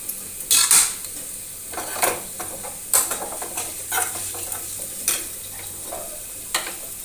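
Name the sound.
frying mustard seeds for ginger curry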